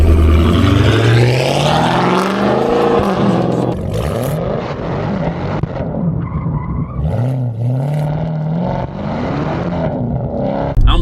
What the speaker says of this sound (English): I'm loving the way this straight pipe sound.